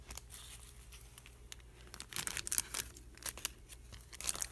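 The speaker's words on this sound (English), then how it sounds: "And now I'm just going to cut this." Scissors snip through paper for a journal page in a few close, crisp cuts with light rustling, sparse and quiet, no speech.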